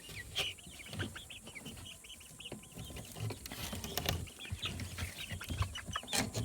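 Laying hens including Livensky and Grey Leghorn birds with a Barbezieux rooster cluck in a coop, a steady scatter of short clucks and chirps close by over low background noise.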